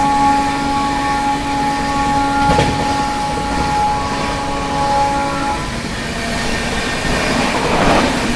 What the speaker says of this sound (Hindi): काफी पीछे रह गई अभी सियालदह राजधानी एक्सप्रेस।